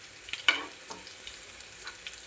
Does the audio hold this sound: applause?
no